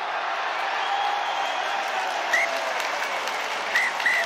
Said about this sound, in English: they're all clapping for each other, cheering for each other and celebrating the wins